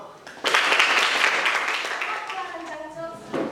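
A school class group bursts into applause after a classroom art project presentation, a sudden burst of clapping that stays fairly loud, then thins toward the end with a voice rising over it.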